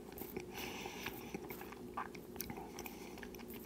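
Close, steady chewing and biting on food eaten with a spoon, soft crunchy mouth sounds repeating through a few seconds over a faint room hum, with no talking.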